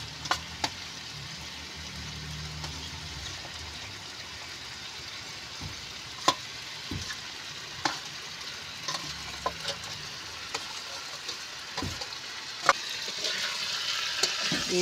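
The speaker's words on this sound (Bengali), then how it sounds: "এবার আমি ভেন্ডিগুলো দিয়ে দেবো। দিয়ে কিছুক্ষণ নাড়াচাড়া করে নিয়ে" Okra stir-fried with potatoes in a pan, a steady close sizzle throughout with scattered sharp clicks of a spatula against the pan.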